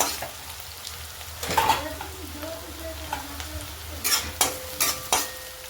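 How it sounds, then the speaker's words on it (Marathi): Chopped onion frying in a pan for dhaba-style poha gives a steady, close sizzle. Several sharp scrapes and clinks of stirring rise above it, with a cluster near the end. "कांदा फ्राय होतोय आता आपला"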